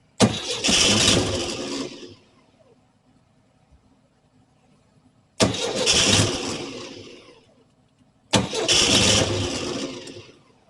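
A 1968 VW Type 3 with its original fuel injection cranks in three separate bursts of about two to three seconds each, a close churning starter-and-engine rasp with quiet pauses between and no catch.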